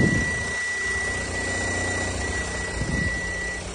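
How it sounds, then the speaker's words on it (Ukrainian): A 2012 Kia Sorento diesel engine idling nearby with an even, steady rumble and a faint high whine held throughout. "Так, дизеляка. Моторчик, візуально, ремішечок цілий, моторчик сухий візуально працює рівненько"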